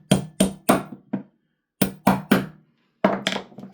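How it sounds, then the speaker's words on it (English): A hammer taps pins out of a TAPP Airsoft AAP-01 hybrid HPA trigger assembly: sharp metallic knocks in quick clusters of three or four, close and loud with silent gaps between. "let's grab a hammer and we'll just give these pins a tap."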